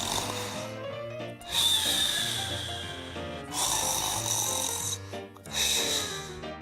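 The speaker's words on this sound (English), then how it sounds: "No one could stand Dad's snore" A man snores in long, raspy, drawn-out breaths, three loud rasping pulls separated by short quiet gaps.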